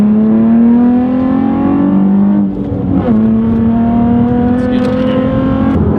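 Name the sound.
Nissan 350z with cold air intake accelerating in second gear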